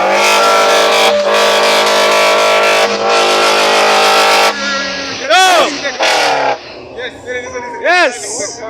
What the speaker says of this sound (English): Let's do a little rev.